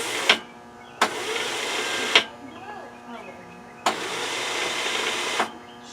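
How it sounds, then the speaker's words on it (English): The electric starter on a Kohler Courage lawn tractor engine, fitted without an air cleaner, whirs in three separate bursts, spinning freely without catching the flywheel, with short silences between attempts. "Starter spinning but not engaging the flywheel"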